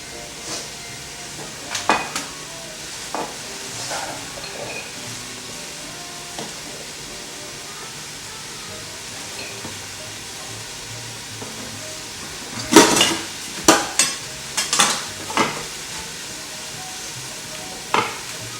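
Food sizzles steadily with onions in a pan, a low continuous frying hiss broken by a run of sharp utensil clanks and scrapes near the end.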